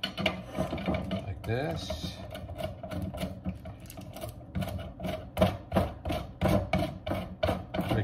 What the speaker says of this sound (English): I'm gonna grate this butter real fast.